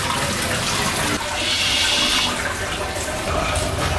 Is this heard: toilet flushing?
yes